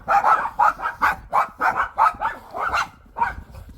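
Several dogs bark in quick, repeated bursts close by, a rapid, uneven series of sharp woofs with no pauses longer than a moment.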